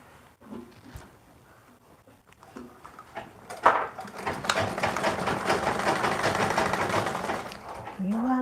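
Sewing machine top stitching the fold on a woman's shirt, a steady close mechanical whirr that starts partway through and runs for several seconds after some handling noises, with speech heard before and around it.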